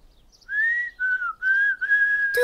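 Lip whistling in a children's cartoon, a clear pure tone sung in four sustained phrases with short gaps, gently sliding in pitch, close and alone.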